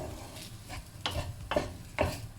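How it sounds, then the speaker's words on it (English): Rice frying in a pan is stirred and pushed around with a spoon or spatula, rhythmic scraping strokes over a constant soft sizzle, close and moderately loud. "you can use a spoon, you can use a spatula as well, yeah, to fry the rice"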